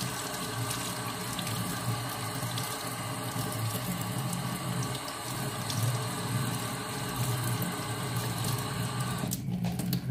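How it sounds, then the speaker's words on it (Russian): Warm water runs steadily from a tap, rinsing tarnished silver, a constant splashing hiss that continues unbroken for several seconds with no talking. "И смываем теплой водой"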